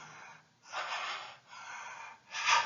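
A voice imitates deep, rapid Kussmaul breathing of ketoacidosis: three loud, forceful breaths in quick succession, each a long airy rush separated by brief pauses, close and alone.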